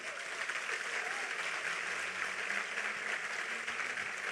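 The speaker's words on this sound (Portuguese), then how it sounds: "Aplauda ele em nome de Jesus." A church congregation claps and cheers during a Portuguese-language sermon, a broad, even wash of applause heard faintly, as if from a distance.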